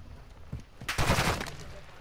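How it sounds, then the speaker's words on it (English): Gunfire in Call of Duty Modern Warfare II: a short burst of rapid shots erupts and rattles on, loud and close, after softer thumps. "I hear shooting."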